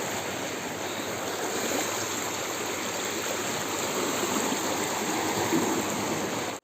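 Floodwater rushes during a flood in Tirunelveli, India, in a constant, loud, broadband roar, steady throughout with no voices.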